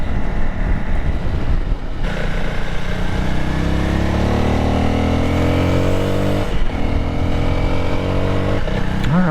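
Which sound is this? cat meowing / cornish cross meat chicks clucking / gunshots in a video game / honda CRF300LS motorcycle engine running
honda CRF300LS motorcycle engine running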